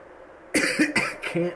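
A person coughs and clears their throat in a short, rough burst of a few chesty hacks close to the microphone.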